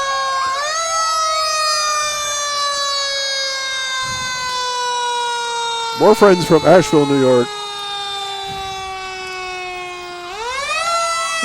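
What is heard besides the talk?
Asheville New York Fire Department fire truck siren in parade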